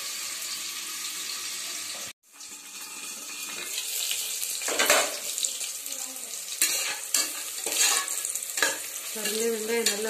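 Chopped onions sauté in a pan for Tamil tomato rice, giving a busy crackling sizzle with repeated scraping stirs and a brief pause near the start, close and fairly loud with no talking.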